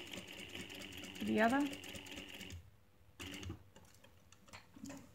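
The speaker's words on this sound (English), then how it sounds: "from the top, I'm edge stitching it" A sewing machine runs steadily, edge stitching a pocket flap with a compensating foot, then stops and falls quiet while a person talks nearby.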